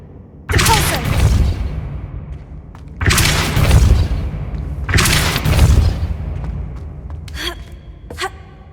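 Depulso spells cast in the game Hogwarts Legacy, three heavy booming blasts, each followed by a decaying rumble, then a couple of fainter sharp pops at the end.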